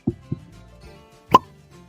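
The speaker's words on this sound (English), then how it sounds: "Fresh cork pop." A soft pop of a cork pulled from a bourbon bottle, preceded by a couple of small squeaky twists, close and fairly quiet.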